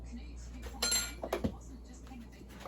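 A metal spoon clinks a few times against a pot or glass container as sugar goes into cooking tomatoes for macaroni and tomatoes, a brief cluster of close, bright taps over quiet kitchen background.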